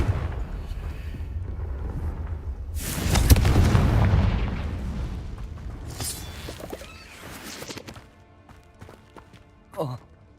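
A Confringo fire spell blast in the wizarding game Hogwarts Legacy goes off as a loud burst around the three-second mark, then fades into scattered game effects while someone talks.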